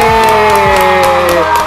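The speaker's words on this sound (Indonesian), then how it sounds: "Tepuk tangan dong." A short, loud burst of crowd cheering and clapping fills under two seconds, with whoops riding over a steady tonal backdrop.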